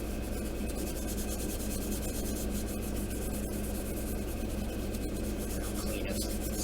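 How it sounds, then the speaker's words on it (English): A Scotch-Brite pad rubs along the seams of a plastic model kit, a Pegasus Hobbies War of the Worlds war machine, producing a faint, continuous close hiss of abrasion with no talking. "Scotch-Brite cleans up all this compound curves there."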